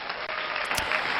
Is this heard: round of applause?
yes